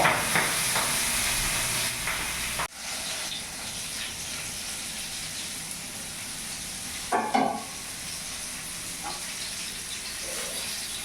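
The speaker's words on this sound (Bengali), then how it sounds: "এক পিসটা ভাজা হয়ে গেছে, আর এক পিসটা আমি উল্টিয়ে দিচ্ছি। বল মাছটা এতটাই ফোটে যে ঢাকা দিয়ে আমাকে ভাজতে হচ্ছে।" Pieces of boal fish fry in a covered pan with a continuous hiss and sizzle, broken by a sudden dip when the lid shifts and a short burst of spattering later on.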